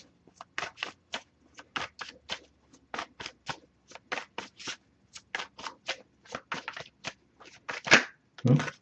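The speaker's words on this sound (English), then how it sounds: "If I shuffle for a while without anything coming up, I'll just move on to the next Oracle deck" An oracle card deck is shuffled by hand in quick, crisp bursts of riffling, about two per second, close and clear with quiet pauses between, ending in a louder shuffle.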